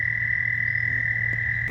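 Frogs croak in a dense, steady chorus deep in wooded wetland along a kayaking route, with a continuous high trill over a low pulsing drone, close and loud with no talk.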